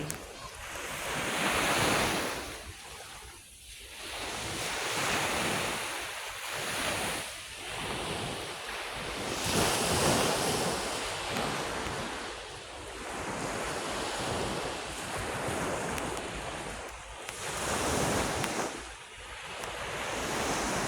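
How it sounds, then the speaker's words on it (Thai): Strong ocean waves crash and surge onto a beach in front of a hotel, a loud continuous roar that swells and recedes in repeated washes, with heavy wind buffeting the microphone. "เสียงคลื่นซัดแรงมากเลย"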